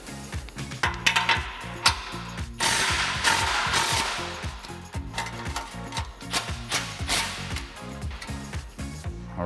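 A tool loosens an exhaust clamp on a 6.4L RAM 2500 pickup, producing rapid, rattling mechanical bursts and ratcheting clatter close by, in uneven runs across the whole stretch, with no talking.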